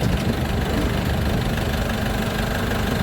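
A vehicle engine runs steadily as it drives into a narrow lane near a home borewell job, a loud, continuous low rumble with slight knocking texture throughout, with no talk over it.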